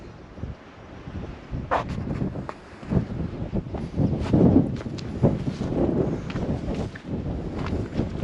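Wind gusts buffeting the microphone along the South West Coast Path beside the Wheal mine ruins, a steady low rumbling roar that swells and fades in strong gusts throughout, with no talking.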